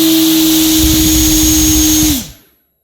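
An Xpower direct drive electric motor spins a propeller at 12 volts with a loud, steady high whine and rushing air, then spins down and cuts off abruptly into silence.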